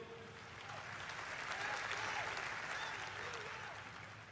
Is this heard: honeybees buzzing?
no